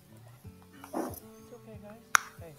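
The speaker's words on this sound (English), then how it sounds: "Can you imagine they breed a husky mastiff offspring? What a dog." A husky mastiff dog whimpers and yips close by, then lets out one sharp bark near the end, over a busy background.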